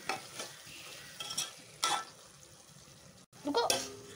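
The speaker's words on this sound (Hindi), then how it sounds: "अब इसमें हम करी पत्ता डालेंगे। अब इसे हम थोड़ा मिक्स कर लेंगे।" Potatoes and curry leaves stirred in a pan, with a soft continuous sizzle of frying broken by a few sharp scraping strokes of a utensil against the metal, fairly quiet and close.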